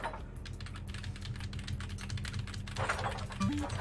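Fingers type rapidly on a mechanical keyboard with Cherry switches, producing a dense run of close clicky clacks over a faint steady tone.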